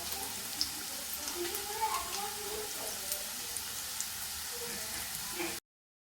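Cubes of paneer fry in hot oil until lightly browned, a steady soft sizzle with occasional small pops that continues evenly before cutting off abruptly near the end.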